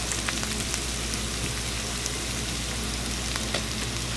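Aromatics for keto Mongolian beef sauté in a hot pan, giving a steady, close sizzle with scattered pops and crackles and no talking over it.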